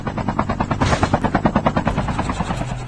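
Aircraft in the Call of Duty Mobile battle game drones steadily with a pulsing, rhythmic engine beat, fairly loud and close, swelling near the start and carrying on unbroken with no talk.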